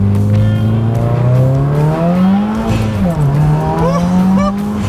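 A turbocharged 2017 Subaru WRX tuned for E85 roars close by, revving hard in first gear with a rising pitch, dipping briefly at a shift before climbing again, loud and continuous.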